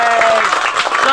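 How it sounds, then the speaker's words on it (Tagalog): Brief burst of clapping from guests at a children's party in Bocaue, Bulacan, steady and fairly loud for about a second. "clap your hands"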